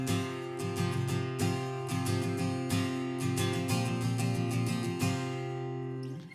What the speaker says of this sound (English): leave a little space in between those down strums